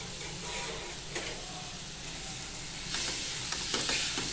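Chopped ripe tomatoes and spices sauté in a hot pan, giving a continuous close sizzle and hiss with brief stirring scrapes, growing brighter and louder toward the end, with no one talking.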